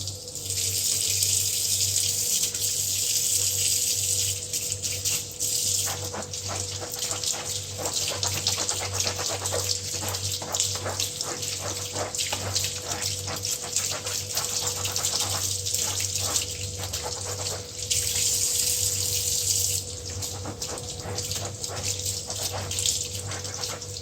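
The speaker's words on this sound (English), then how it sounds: "You can see soiled black water pouring out of the gloves into the sink." A tap runs steadily into a sink while goalkeeper gloves are washed and wrung, a continuous splashing gush with brief shifts as hands and gloves move under the stream.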